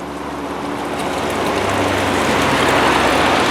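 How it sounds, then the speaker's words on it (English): Water gushes hard from a hand-pressed village pump in a Russian suburb, a loud, close, continuous rushing that swells slightly as it flows. "And the water is pouring."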